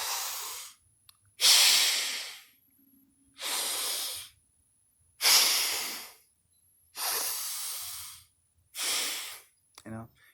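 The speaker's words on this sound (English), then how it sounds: "they're really, really good, those breathing exercises" Six slow, deep breaths in a breathing exercise, each a loud breathy rush lasting about a second with quiet pauses between, close to the listener and with no speech.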